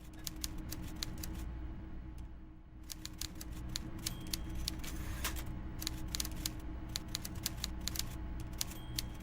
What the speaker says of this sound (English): I might end the stream here with the sound of a typewriter